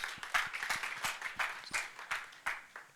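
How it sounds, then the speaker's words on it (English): A small audience applauds after a tech talk on semi-supervised learning and data labeling, sparse uneven clapping with distinct individual claps, fairly quiet and close, lasting a few seconds. "First of all, a round of applause."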